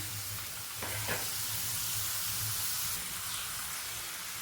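French fries frying in hot oil give a steady, dense sizzle with crackling, loud and close throughout.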